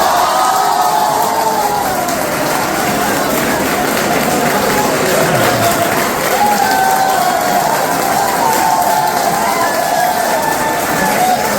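A crowd at a university event in Noida applauds continuously with some cheering mixed in, a dense, even wash of clapping that stays loud for the whole stretch.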